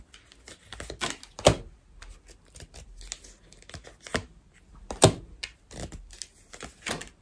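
Tarot cards are shuffled and drawn for a reading, giving sharp riffling snaps and papery slaps in irregular bursts, with a few louder cracks of cards striking the table, close and crisp.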